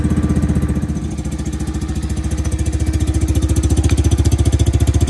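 A four-wheeler ATV bought from Amazon, fitted with a small exhaust, starts up and settles into a close, rapid, evenly pulsing idle that keeps chugging steadily without speech.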